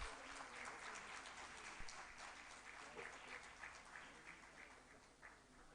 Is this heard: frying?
no